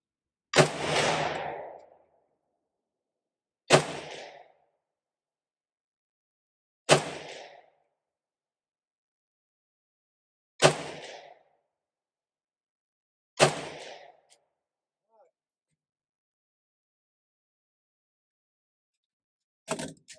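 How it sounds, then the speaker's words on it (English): A Dragunov SVD sniper rifle fitted with a 3-9x24 scope fires five loud, sharp shots at a 100-yard target, spaced about three seconds apart, each followed by a short decaying echo, with a faint clack at the end. "100 yards, 5 rounds with the SVD rifle scope."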